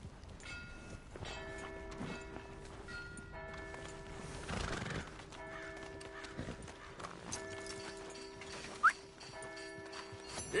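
A horse in a PS4 video game whinnies and its hooves clip-clop in a steady rhythm, with a low mechanical hum and music tones underneath and a sharp neigh rising near the end.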